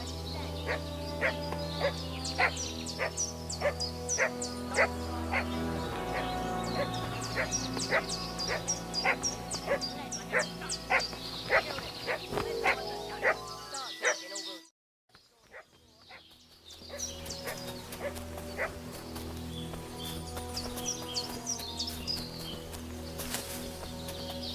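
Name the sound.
dog barking in Kingdom Come: Deliverance II video game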